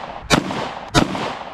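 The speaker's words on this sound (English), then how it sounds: "And we are shooting, again, the 40 grain" Two sharp, close gunshots from an FN PS90 with a 10.4-inch barrel firing 40 grain FN ammunition, spaced about two-thirds of a second apart, each a loud crack with a short ringing tail.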